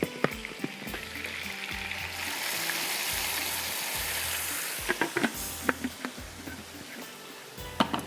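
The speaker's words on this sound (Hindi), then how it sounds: "अब इसके अंदर जाएंगे यहाँ पर पिसे हुए टमाटर।" Ground tomatoes go into a sizzling masala for a Pakistani chicken tomato curry, a constant close frying hiss that turns into sharper crackles and spoon scrapes as the wet purée hits the hot oil.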